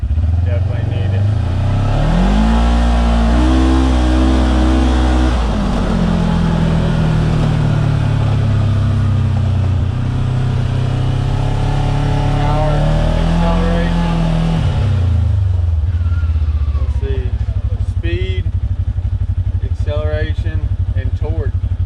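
A Segway UT10 side-by-side with a tuned engine revs hard in low gear, a loud, steady close roar that rises and falls over about fifteen seconds before easing toward idle, with some clatter and a voice near the end.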